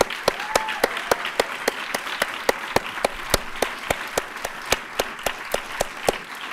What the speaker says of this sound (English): give a round of applause for everyone that's here